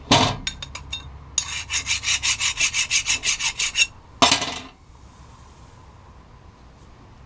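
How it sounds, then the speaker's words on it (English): Rapid rhythmic rasping strokes of a metal file deburring drilled metal, about a dozen back-and-forth passes, preceded by a few short scrapes and ending with one long scrape, then quiet. "I'm gonna clean off the burrs from drilling with a file"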